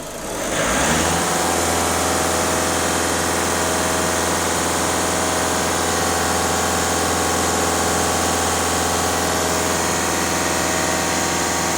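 Skoda Rapid 1.6 TDI diesel engine held at a steady raised speed of about 2,500 rpm, a loud continuous drone with a low hum that holds without break after a brief rise at the start.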